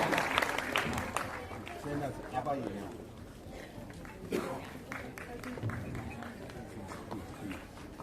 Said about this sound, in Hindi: तालियां होनी चाहिए माशाअल्लाह।